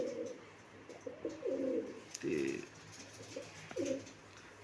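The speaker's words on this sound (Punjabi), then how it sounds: "ਪਰ ਚੰਗੇ ਬਹੁਤ ਆ ਕਬੂਤਰ" Several pigeons coo in low, throaty bursts, with a voice speaking briefly among them.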